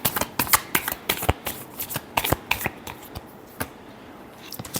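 Deck of tarot cards being shuffled by hand, a quick run of crisp riffling flicks and slaps, close and clear, then slowing and fading out.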